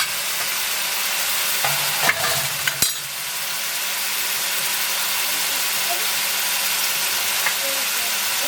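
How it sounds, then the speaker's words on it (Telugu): Murrel fish curry frying in a pan while being stirred, a steady sizzle and hiss filling the clip with a few sharp scrapes of the spoon near the middle. "ఇది ఫ్రై అవ్వాలన్నమాట."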